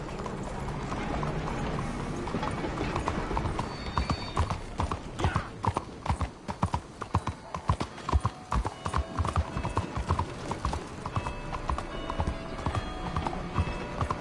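A horse's hooves clop at a steady walking rhythm in Red Dead Redemption 2, loud and continuous from start to finish, with faint tonal background sound beneath.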